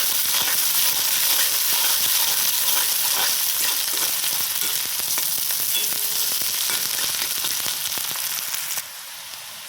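Spice paste frying in a pan, a loud, dense, continuous sizzle with rapid crackles and scraping stirs close by, dropping suddenly in level near the end; no one speaks.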